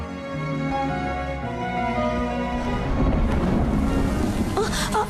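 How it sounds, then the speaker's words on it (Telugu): Rain falls late at night as a continuous wash with low rumbles that suggest thunder, blended with sustained musical tones and growing louder toward the end. "వర్షం ఒకటి పడుతుంది"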